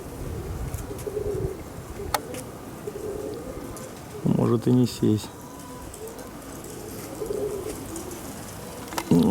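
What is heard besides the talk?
flying pigeons cooing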